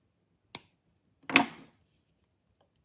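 Wire cutters snip the tail of jewelry wire after wrapping a crystal bead link, giving a single sharp click followed by a second, slightly fuller snap, both close and isolated in a quiet room.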